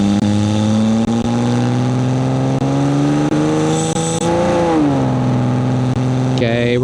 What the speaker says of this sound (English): Romp on the gas and go 20 seconds from 0 to 60.